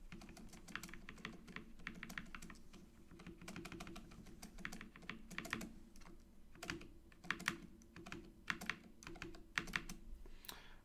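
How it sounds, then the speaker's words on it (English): Steady typing on a low-profile keyboard, a rapid run of light clicks with irregular rhythm and occasional louder keystrokes, close and alone. "the sound profile changes as I type towards the left"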